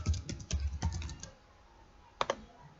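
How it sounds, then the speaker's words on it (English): Keys on a computer keyboard clack in a quick run of close taps, then a short pause and a final pair of strokes, quiet and dry. "Let's just type something here."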